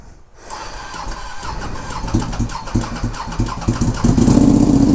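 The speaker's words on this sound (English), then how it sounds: "Let's get this thing started up, and we shall see." A Ducati Panigale V2 engine with a Vandemon full exhaust and dB killers cranks, catches, and sputters into a rough, choppy idle that grows louder and steadier toward the end.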